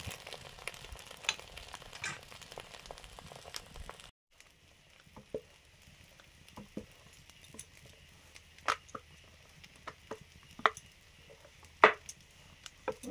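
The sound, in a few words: paratha deep frying, spooning oil over it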